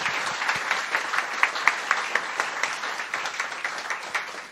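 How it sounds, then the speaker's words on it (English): Steady applause from a conference audience for a panel, dense clapping that holds throughout with small swells, fairly close and moderately loud. "I'm going to pass along applause for our panel"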